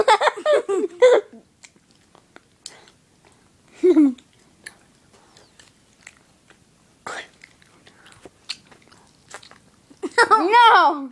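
Bubble gum is chewed with scattered wet, sticky clicks and smacks between louder bursts of voices and giggling.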